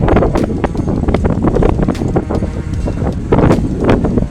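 Strong wind buffets the microphone over floodwater, a loud, gusty roar with irregular thumps and bursts throughout, and no clear voices.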